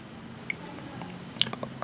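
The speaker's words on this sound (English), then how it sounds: "say I want the water droplet sound" A water droplet sound from the Samsung Galaxy S3 Drop live wallpaper: brief, bright plinks, one near the start and a cluster toward the end, over a faint background hum.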